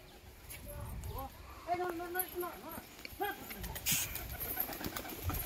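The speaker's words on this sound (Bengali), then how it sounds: "দেখুন ও খুব নড়াচ্ছে পায়রা বন্ধুরা" A young pigeon coos in short repeated bursts near a loft, with rustling wing flutters and brief knocks in between, while someone talks quietly.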